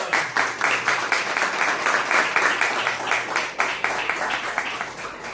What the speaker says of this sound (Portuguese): Palmas aí para essa videira!